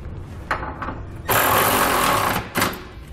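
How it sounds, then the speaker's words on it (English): Ratcheting of a 3/4-inch socket wrench tightening the bolts of a Curt trailer hitch receiver under a 2014 vehicle, loud close bursts of rapid clicking, one long run between shorter ones. "I'm gonna come back with a 3/4-inch socket and wrench. And I'm gonna tighten up all my hardware."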